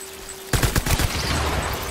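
Gunfire in Death Stranding erupts suddenly after a quiet hum, a quick close burst of several sharp shots followed by a lingering rumbling tail.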